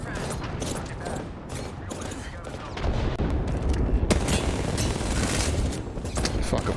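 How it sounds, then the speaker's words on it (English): A frag grenade blast and rapid bursts of gunfire boom and rattle continuously in a video game firefight, dense and loud throughout, growing heavier partway through. "Throwing frag."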